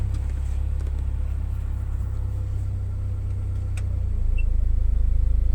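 A 2008 Mitsubishi Lancer idles with a steady low rumble while being put into gear, the engine hum even and close before swelling slightly louder toward the end.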